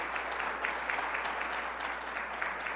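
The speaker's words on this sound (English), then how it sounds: "So let's give them a round of applause for what they do." Crowd at a school reading event clapping in a steady, moderately faint round, many hands blending into an even patter over a low electrical hum, without any voices.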